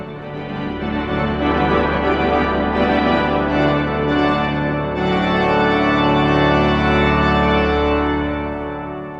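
York Minster's pipe organ sounding with the swell box open, a dense sustained chord rich in harmonics and deep bass, swelling slightly brighter midway and ringing continuously and loudly throughout, with no talk.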